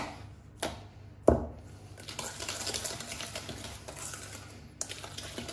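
Cake batter for a galette des rois being mixed by hand in a bowl, a few sharp knocks and scrapes of the utensil against the bowl followed by a steady soft stirring rustle, close and fairly quiet.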